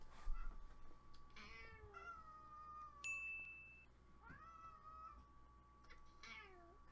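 Several cats meow and caterwaul indoors, drawn-out rising and falling cries spaced every second or so, fairly quiet and close, with a short ding in the middle.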